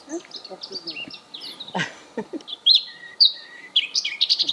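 Birds chirp and tweet in a garden with quick, bright, varied calls close by, while people talk quietly in French underneath.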